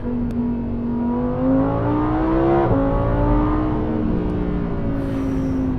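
A Lamborghini Huracan Sterrato engine revs steadily upward, the tone rising smoothly, then dipping briefly before climbing again. The sound is close and sustained, heard from inside the car.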